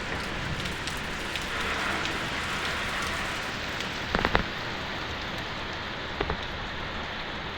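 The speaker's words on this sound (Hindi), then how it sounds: "इतनी तेज़ बारिश है" Very heavy rain, with hail reported, pours down in a dense, steady hiss of drops hammering surfaces, loud and unbroken, with a couple of sharper knocks partway through.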